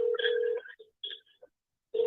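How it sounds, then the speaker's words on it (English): A telephone rings during a live radio call-in show, two short electronic ring bursts separated by a pause, then a third starting, fairly faint and clear with no talk over it. "It sounds like a phone"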